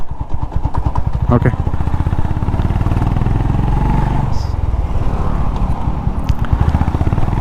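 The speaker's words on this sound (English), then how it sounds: "So we're on the second gear. Let's go to the third." A Honda H'ness CB350 motorcycle engine thrums loudly and close, its pulsing beat changing pitch as it shifts from second into third gear, with a brief spoken word over it.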